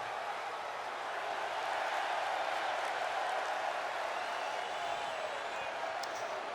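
A large crowd at a wrestling event applauds a wrestler's return, a steady, continuous roar of clapping and cheering that stays even throughout at a moderate distance.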